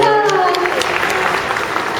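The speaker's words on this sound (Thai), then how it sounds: "เอาไปปรบมือ" Audience clapping at a Thai game show, a dense steady burst of applause throughout, loud and close, with a voice talking over the start.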